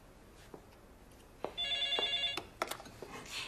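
A telephone ringing indoors, with a clear electronic ring burst that is fairly close and loud, followed by a few clatters and soft handling noises.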